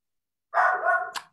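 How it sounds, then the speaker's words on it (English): A small dog gives a single short bark in the background, sharp and brief after a moment of silence, with no talk over it. "My little friend Langston is barking in the back"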